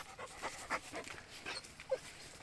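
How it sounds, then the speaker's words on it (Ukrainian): A dog pants softly with faint whimpers mixed in, quiet and close, in uneven short breaths. "Чудернацька собака в нас."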